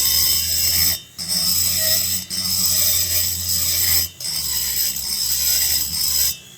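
Rotary cutter grinding the transfer ports of a Homelite XL922 chainsaw cylinder at low speed, a steady buzzing whine with gritty rubbing, broken into several short bursts by brief pauses.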